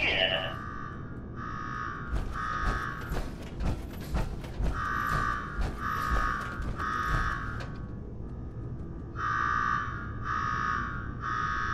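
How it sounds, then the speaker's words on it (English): A facility alarm in the Fallout 4 video game blares in repeated pulsing electronic bursts, pausing briefly before starting again, over busy game sounds. "Damn alarm."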